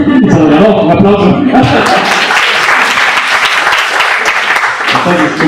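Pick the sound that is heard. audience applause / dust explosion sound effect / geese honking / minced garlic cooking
audience applause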